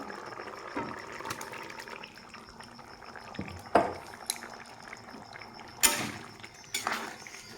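Fried pointed gourd (potol) tipped into a pot of simmering mung dal, giving a few soft splashes and clinks against a steady bubbling background, with no talking.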